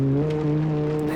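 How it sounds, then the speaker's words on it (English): A screaming 5-cylinder car engine of about 300 horsepower in the BeamNG.Drive driving game holds a steady, loud, high-revving drone with rich harmonics, unbroken and close throughout. "Why do 5-cylinder engines sound so good?"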